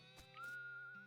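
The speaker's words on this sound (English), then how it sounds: "Still whistling." A short rising whistle from a character in the Western comedy game West of Loathing, a steady clear tone held for most of a second over a low background hum, fairly quiet.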